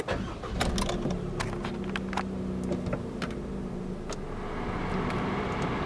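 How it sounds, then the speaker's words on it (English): A Maruti Suzuki Celerio ZXI (O) automatic being started with the key, its engine turning over and settling into a steady idle hum, with a few clicks and small clatters inside the cabin and no talking. "and start the car."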